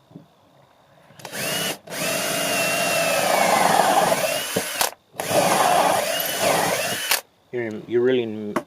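A power drill whirs through reclaimed wood in two long bursts, drilling holes for a wooden phone stand, near and loud, with brief pauses between, followed by a short spoken remark.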